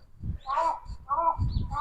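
Crows caw in Japan in a few harsh, repeated calls, close and fairly loud, with low street rumble and voices underneath.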